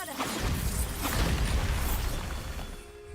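Bombarda spell blasts in Hogwarts Legacy, a dense booming explosion with crashing debris that rumbles continuously for about three seconds before trailing off, loud and close.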